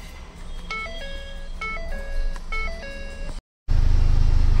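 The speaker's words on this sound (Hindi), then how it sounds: "अब करते हैं गाड़ी स्टार्ट।" A Ford EcoSport with a smart key. Repeated electronic dashboard chime patterns play over a low hum, then there is a brief silence before the engine catches and settles into a steady, loud idle.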